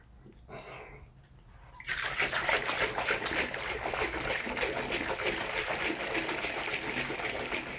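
A capped jug of honey and water for mead being shaken, a near continuous sloshing and rattling liquid churn that starts abruptly after a quiet moment and keeps going steadily.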